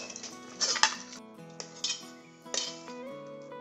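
Pressure cooker lid opened after cooking sprouted chickpeas in a home kitchen, giving a few metallic clanks and clinks of the lid and pot in short bursts, fairly close, with no talking.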